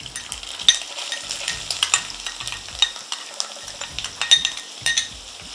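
Ginger is being stir-fried in a pan, with a spoon scraping and clinking against the metal in an uneven rhythm over a soft, close sizzle, with no voices.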